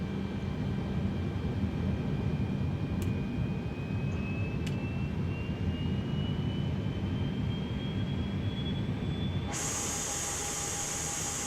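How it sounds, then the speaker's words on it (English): Airbus A320 jet engines in Microsoft Flight Simulator 2020 give a steady, loud whine and rumble from start to end, with a rising tone and a brighter hiss joining near the finish. "Check out these engine sounds."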